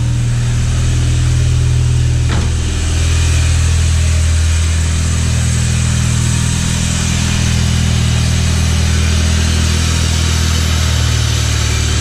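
A supercharged 85 engine fitted to a Honda CT70 idles steadily and loudly up close, with a deep low rumble that holds through the clip.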